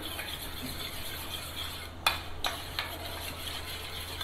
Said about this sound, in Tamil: நல்லா மிக்ஸ் பண்ணிட்டே இருங்க